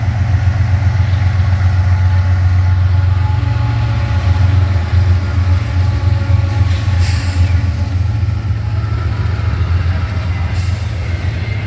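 A BNSF intermodal freight train with three locomotives rolls past, a loud continuous low diesel rumble with steady wheel noise, plus a couple of brief higher squeals or clanks.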